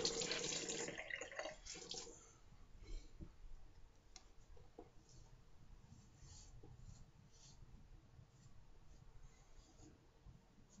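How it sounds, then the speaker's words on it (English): Cold tap water runs into a sink to rinse a razor during a wet shave, a loud initial gush fading to a faint, steady trickle with small clicks of the razor. "Cold water rinse, of course."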